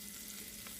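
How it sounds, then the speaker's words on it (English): Roast meat sizzling in a hot pan, a faint, steady hissing crackle that is brief and continuous, heard alone. "You guys hear that sizzle?"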